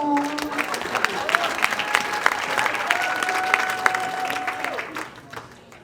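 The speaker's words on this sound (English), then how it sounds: "Give yourselves a round of applause, please." Audience at a charity fundraiser breaks into steady applause, dense clapping with some whoops and voices mixed in, sustained for several seconds before thinning out at the end.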